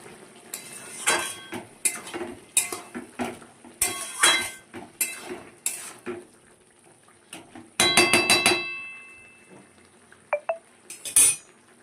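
A pan lid lifting and a spoon clinking and scraping against the pot while fish curry of lote is stirred, with sharp metallic knocks spread unevenly and a short burst of rapid clatter in the middle.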